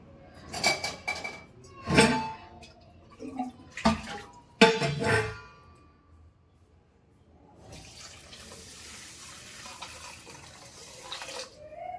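Clattering and clinking at first, then a steady, soft rushing of water pouring into a container for several seconds.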